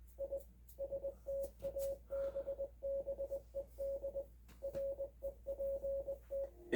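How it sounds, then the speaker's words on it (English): Steady Morse code beeps over a black screen: a single pure tone keyed in short dots and longer dashes, grouped with brief pauses, running continuously and evenly at moderate volume with a faint low hum underneath. "We begin the video by opening up to a black screen with Morse code playing in the background."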